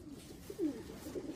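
Soft, low pigeon cooing from a racing pigeon in a loft, a brief murmuring call near the middle of the clip over a quiet background with no speech.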